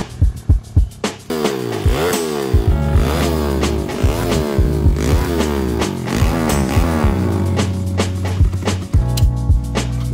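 A motorcycle engine runs through its break-in after a build, idling roughly with repeated throttle blips and uneven revving, loud and close, with a few sharp clatters at the start.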